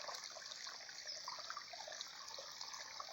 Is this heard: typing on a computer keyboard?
no